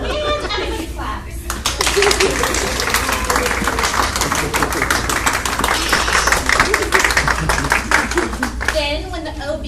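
Loud, dense clapping from an audience at a birth-themed stage performance, breaking out after a brief quiet stretch and sustained for several seconds with individual hand claps audible in the mix.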